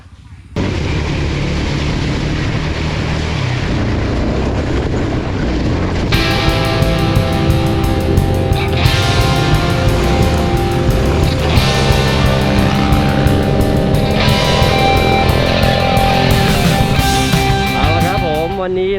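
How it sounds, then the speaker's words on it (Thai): A motorcycle rides through a rocky stream in Mae Tha, Lampang, during the rainy season, its engine roaring loudly and continuously along with rushing, splashing water, with no break for the whole stretch. "เราก็จะขี่ ลุยลำธารไป ที่แม่ทะตรงนี้คือเฉพาะหน้าฝน"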